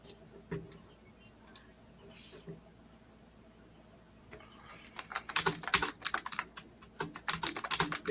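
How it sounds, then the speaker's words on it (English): Computer keyboard typing, quiet and sparse at first, then a denser burst of clicky keystrokes in the second half, heard close in a quiet room. "I can hear his keyboard, but it doesn't bother me"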